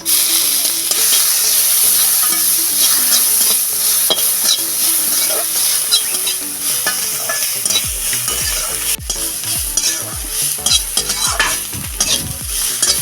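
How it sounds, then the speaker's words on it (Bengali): Spices fry in hot oil in a pan with a steady, close sizzle while a spoon scrapes and stirs through them in repeated strokes. No one speaks. "আমি এটাকে ভালো করে তেলের মধ্যে ভেজে নেব"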